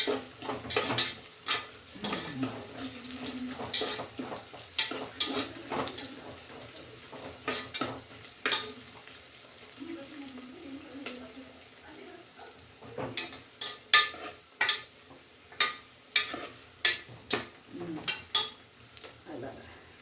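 Ingredients frying in a pan for a minapappu tomato dish, stirred with a metal spoon: a soft continuous sizzle broken by sharp, rhythmic clinks and scrapes against the pan, close and fairly loud.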